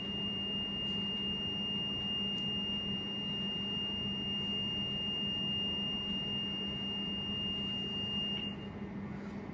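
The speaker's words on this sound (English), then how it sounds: "Okay, so we now have the beep." A reed switch gap adjustment tool on an MWE3 emits a steady continuous high-pitched beep lasting the whole stretch, set over a constant low background hum.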